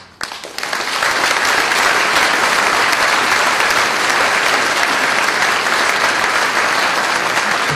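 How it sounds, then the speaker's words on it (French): After a brief quiet moment, an audience bursts into sustained, dense applause at a mayor's New Year ceremony in Ramatuelle, clapping loudly and evenly to the end. "On peut les applaudir encore toute l'équipe, s'il vous plaît."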